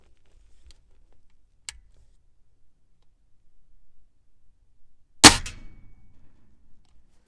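A Feinwerkbau FWB Sport .177 break barrel air rifle fires once, a single sharp crack with a short ringing tail, preceded by faint clicks of the mechanism in an otherwise quiet setting.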